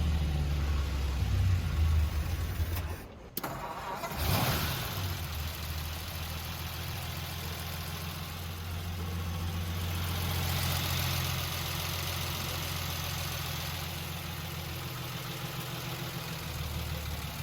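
A 1939 Lincoln Zephyr V-12 coupe engine runs with a low, steady idle that breaks off briefly, then settles back into an even, close rumble.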